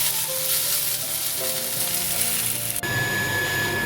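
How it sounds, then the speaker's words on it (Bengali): Dried red chillies and nigella seeds crackle and sizzle in hot oil, a steady loud frying hiss that shifts abruptly near the end as the pan is stirred. "তেল গরম হলে ফোড়নে দিচ্ছি শুকনো লঙ্কা, কালো জিরে।"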